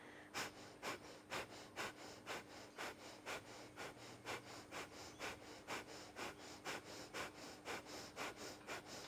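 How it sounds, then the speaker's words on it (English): Bellows breath from a yoga class: rapid, forceful, rhythmic nasal breaths pump in an even series of about twenty strokes, close and clear with no talking. "Five more breaths. And then release the bellows breath."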